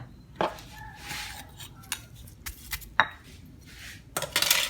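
In a mortar, a pestle pounds southern Thai red curry paste with small shallots and shrimp paste. It gives irregular, close knocks and sharp clinks, with no talking.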